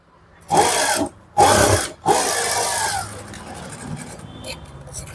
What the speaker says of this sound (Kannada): ಈ ರೀತಿ ಡಬಲ್ ಸ್ಟಿಚ್ ಹಾಕೊಂಡ್ಬಿಡಿ.